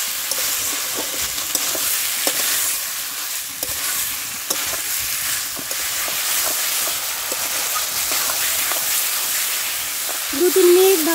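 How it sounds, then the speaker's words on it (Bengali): Figs sautéing in spiced oil for dumur kosha, a steady close sizzle with scraping stirring strokes and occasional clinks of the spoon against the pan, and a brief voice near the end. "এবার মা ডুমুরগুলো দিয়ে দেবে। ভালো করে কষাতে হবে।"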